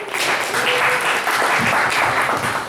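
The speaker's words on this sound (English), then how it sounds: "Let's all give a round of applause for Allison." An open-mic poetry night audience gives a full round of applause, a steady, fairly close wash of many hands clapping that carries on evenly with no speech.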